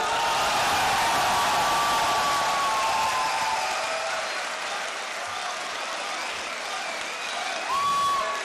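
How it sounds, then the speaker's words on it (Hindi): Sustained loud applause from a large audience at a poetry mushaira at the Pakistan Literature Festival, a dense continuous wash of clapping with a few faint whistles. "आप सब की भरपूर तालियों में तशरीफ लाएंगे"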